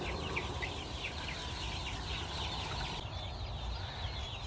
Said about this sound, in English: it officially looks like a lot of chickens